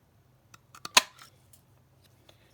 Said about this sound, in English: I'm going to banner cut the end using the tailored tag punch.